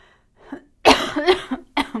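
A person coughs a few times in short, harsh bursts, up close, after a faint breathy sound at the start.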